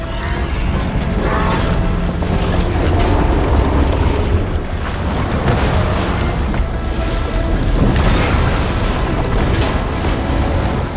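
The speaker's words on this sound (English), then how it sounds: "Blowing up that last heat sink might have breached the hull." A heat sink blows up during combat in the video game Horizon, with a dense, loud, sustained roar of booming blasts and grinding mechanical noise that fills the whole stretch without a break.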